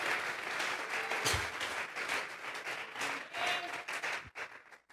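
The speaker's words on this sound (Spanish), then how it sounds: "Dale fuerte esas palmas al Dios de la gloria." Church congregation applauding, a dense, steady wash of clapping that fills the whole stretch, fading slightly at the end.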